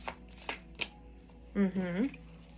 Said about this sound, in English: I'm going to shuffle this deck just to make sure